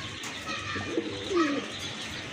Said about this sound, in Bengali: মাশাআল্লাহ, দেখেন কত সুন্দর কবুতর